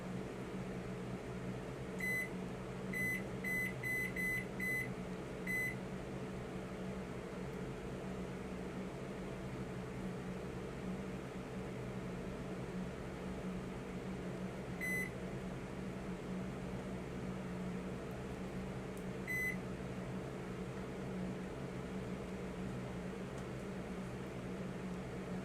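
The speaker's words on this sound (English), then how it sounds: "I don't know how to use my own microwave very good." A microwave oven runs with a steady, close mechanical hum while cooking a chocolate lava cake in a Tupperware pressure cooker, and a cluster of short beeps sounds early on, then single beeps later. No one speaks.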